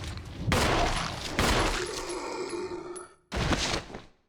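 Rapid gunfire in the Resident Evil video game: two sustained loud volleys, a short ringing tail, then a sharp final burst, close and dry with no talking.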